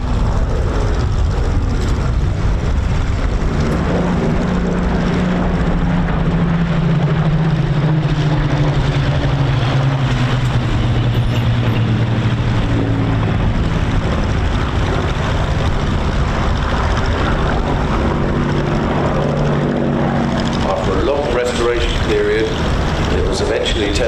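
A restored Spitfire with a supercharged Merlin 66 engine flies at an airshow, its engine a loud continuous roar with a slowly shifting pitch as it passes, while an announcer speaks throughout.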